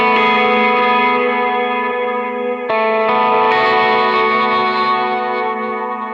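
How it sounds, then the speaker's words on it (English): A clean electric guitar chord, programmed on a Quad Cortex, rings out with shimmering delay and reverb, sustaining and echoing, then a fresh strum restarts the wash of repeats. "Let's crank up some of that delay and reverb."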